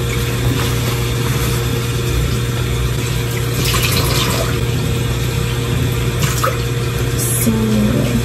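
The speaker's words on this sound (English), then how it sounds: "I'm going to like brush my teeth and all that." Tap water runs steadily from a faucet in a hospital room bathroom, with a constant rushing hiss and a low pump-like hum throughout, and no talking.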